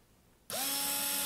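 A handheld electric screwdriver with a wobbling, off-center shaft switches on abruptly from near silence into a steady, loud motor whine with a high buzzing hum that holds evenly without any talk.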